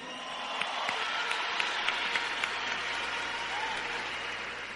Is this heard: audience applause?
yes